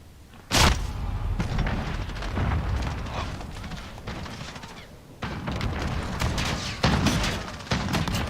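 Cruise missile strikes in Call of Duty Modern Warfare land as a sharp, heavy boom followed by rolling rumbles and further blasts, loud and repeated over several seconds amid scattered gunfire.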